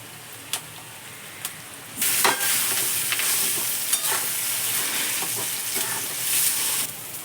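Mashed potato mixture for cutlets being stirred in a pan, with soft scraping strokes and a gentle sizzle that grows louder midway, heard close and alone.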